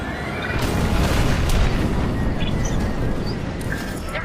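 Explosions rumble and boom in space combat as a comsat comes under attack in Star Wars: Squadrons, a dense, continuous roar of blasts with sharper bursts scattered throughout, loud and close.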